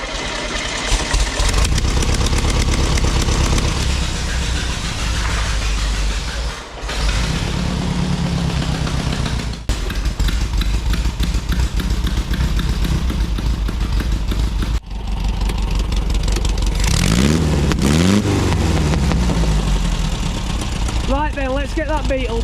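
A rare 1974 VW Beetle, abandoned for thirty years as a barn find, runs loud and close with a steady air-cooled engine idle and rough revs rising and falling; a voice briefly cuts in near the end.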